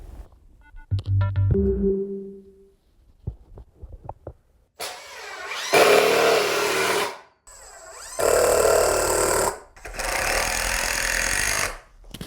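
Several bursts of a power drill whirring, each lasting a second or two with short pauses between, after some faint clicks and knocks.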